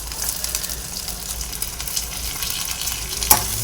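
Onions fry in a pan with curry leaves and coriander, a steady close sizzle with faint stirring scrapes and one small clink near the end, no voices.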